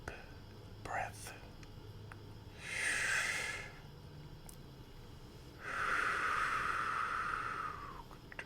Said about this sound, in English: take a minute and take a deep breath